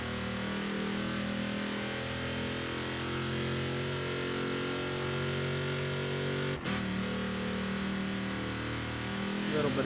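BJ Baldwin's trophy truck in Forza Horizon, running the Baja 1000 at full throttle, gives a loud, steady engine drone that holds for the whole stretch with only a brief dip near the end.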